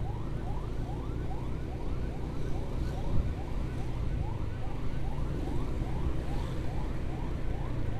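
An ambulance siren wails in fast repeating rising sweeps over steady road rumble while being escorted through traffic, loud and continuous throughout.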